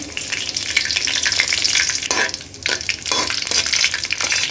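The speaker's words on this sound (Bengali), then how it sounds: "তেল গরম হয়ে গেছে, তেলের মধ্যে দিয়ে দেই একটু আস্ত জিরা আর কয়েকটা তেজপাতা ফোড়ন" Whole cumin seeds and bay leaves sizzle steadily in hot oil in a kadai, a dense, continuous crackle with a few brief stirring scrapes, fairly loud and without talk.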